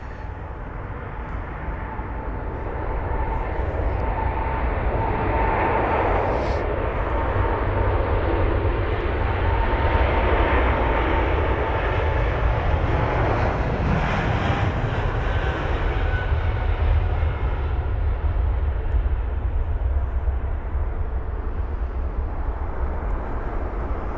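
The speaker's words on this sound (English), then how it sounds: "We've got Air Canada off to Vancouver. It's a Boeing 777-300ER" An Air Canada Boeing 777-300ER jet at London Heathrow gives a loud, sustained engine roar that builds over the first few seconds, then holds steady and broad for a long stretch, with no voices.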